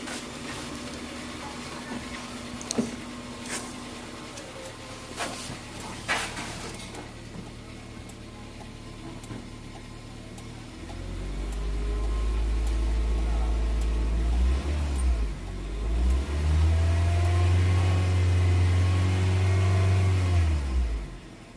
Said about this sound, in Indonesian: biasanya lama starternya waktu pertama kali starter setelah dilakukan treatment gurah mesin